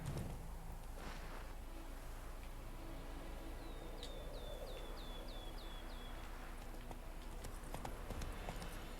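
Horse hooves clip-clop in a steady galloping rhythm in the video game The Witcher 3, under a faint outdoor ambience, with a short run of chirping bird calls partway through.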